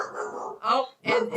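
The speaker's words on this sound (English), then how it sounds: "So sorry about the barking puppy." A puppy startled by thunder during a storm gives a few loud, close barks and yips in quick succession, separated by short pauses.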